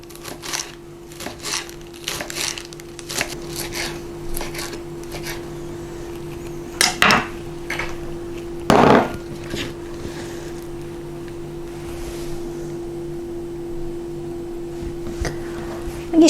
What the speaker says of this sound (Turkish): Ve ince ince jülyen doğruyorum.